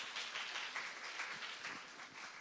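A seminar audience in Seoul gives brief, faint applause to welcome an official to the podium, a short soft patter of clapping.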